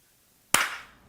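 A group claps once in unison on a count of three, producing a single sharp, loud burst that follows silence and decays quickly into faint room ring.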